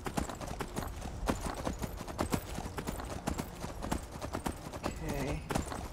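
Steady clip-clop of horse hooves trotting at a quick, even rhythm, close and fairly loud, with no talking, from the video game Skyrim.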